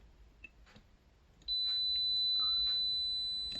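Reverse-biased across a shorted diode from an LG ceiling-type multi air-conditioner indoor unit, the multimeter's continuity buzzer sounds a steady, clear beep that holds for about two seconds, after faint handling clicks.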